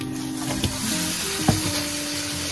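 Okonomiyaki fries on a hot griddle with a steady, close sizzle throughout, broken by a couple of brief clicks and taps while the meat crisps and the batter cooks through.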